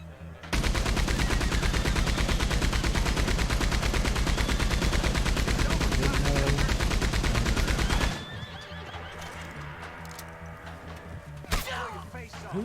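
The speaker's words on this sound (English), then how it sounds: "Who the hell is shooting me from the bushes?" Rapid gunfire from enemies in a video game, a loud sustained burst of shots for several seconds that cuts off, followed by quieter game ambience with horse whinnies and a sharp crack.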